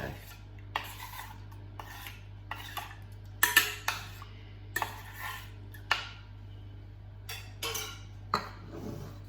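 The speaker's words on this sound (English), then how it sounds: "just pour that in and give it a stir" A utensil scrapes and taps against a pan in a steady, repeated rhythm while stirring milk with bicarb of soda for gluten-free sticky gingerbread, quiet and close over a low background hum.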